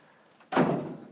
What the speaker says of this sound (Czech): Dveře se otevírají na ISIC